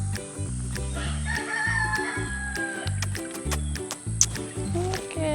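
Chickens cluck and a rooster crows nearby over a steady beat of background music, with a few sharp clucks standing out.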